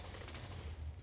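An explosion in the video game Minecraft sounds as a faint, low rumbling burst with crackling noise, lasting about a second with no talk.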